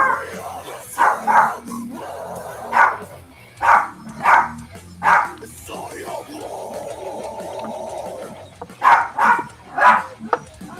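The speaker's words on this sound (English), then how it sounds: "your dog's doing backup vocal" Dog barking during a loud live broadcast, several sharp yips and barks in spaced clusters, some paired, close and prominent with voices talking in between.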